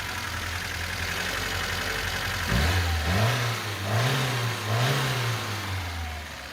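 A car engine with a misfire idles roughly, then revs up several times in rising and falling surges, loud and close, with no talking.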